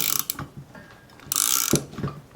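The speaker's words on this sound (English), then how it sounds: "So we're going to tighten down the clutch side nut to 20 foot-pounds." A torque wrench tightening the clutch-side nut on a Puch e50 moped engine: short, close bursts of ratcheting clicks with brief mechanical rattles and pauses between strokes.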